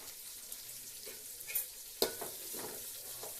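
Capsicum pieces frying in a pan, a steady close sizzle with occasional stirring scrapes and a sharp knock near the middle, no talking.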